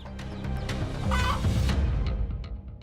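A mother hen clucking with her chicks, a close run of throaty fowl calls and high cheeps rising to a busy peak in the middle before easing off.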